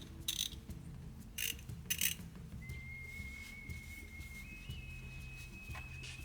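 A GM 263 transfer case's ratchet and spring assembly, freshly sprayed with WD-40, turned by hand: a few short, sharp ratcheting clicks at close range over a low mechanical hum, with a thin steady whistle-like tone.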